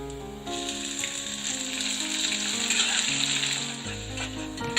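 Crushed small onions (shallots) sizzle steadily in hot oil with fennel, curry leaves and garlic for a Tamil-style potato fry, a soft continuous crackle under background music.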